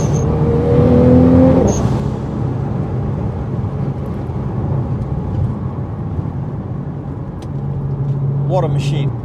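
A Nissan GTR R35 tuned to 800BHP Stage 5 accelerates hard, its loud, dense engine roar filling the cabin with a rising tone and brief gear-change breaks, close and sustained throughout.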